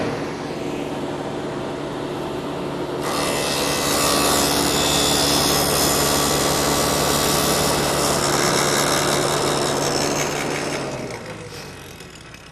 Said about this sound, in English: I'm going to turn on the saw and slowly raise it up till it cuts that line